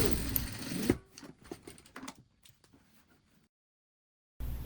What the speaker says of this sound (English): Top stitch pocket along top edge.